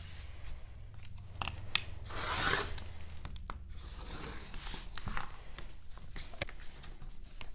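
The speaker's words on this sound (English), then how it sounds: "And then just slice the fabric like that." Fabric being sliced into strips with a rotary cutter for a Styrofoam Christmas tree craft, soft close scraping and cutting strokes repeating quietly in an otherwise still room.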